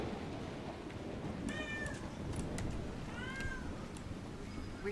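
A cat in the Dragon Age Inquisition video game lets out a few short meows, two distinct calls over a steady low background rumble, fairly faint.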